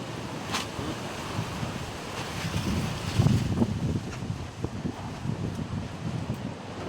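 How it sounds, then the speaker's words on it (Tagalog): Typhoon wind and surf batter a coastal hut, a steady roaring gusty wash of wind and waves with wind buffeting the microphone, swelling briefly midway, no voices. "Ito na, sinasabing bagyo guys."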